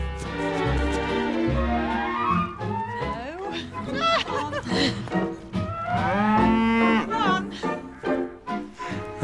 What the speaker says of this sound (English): I've never seen cows come in like this into the garden.